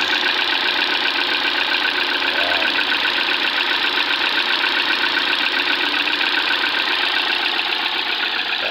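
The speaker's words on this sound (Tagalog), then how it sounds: "Pino na yung andar niya na wala na yung palya." A Ford EcoSport engine idles evenly after a cylinder one misfire repair, a steady close mechanical hum with a fine regular ticking pulse, loud and unbroken with no talk.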